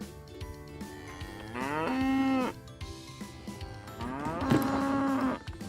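A cow, from a toy animal-sound learning set, gives two long, loud moos with a pause between them. A voice says a single word at the start.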